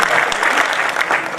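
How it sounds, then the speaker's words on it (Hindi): A short burst of dense, enthusiastic audience applause at an all-India Hindi poetry gathering, close and loud, with steady clapping throughout. "एक बार जरा तालियां हजरत मनु के लिए"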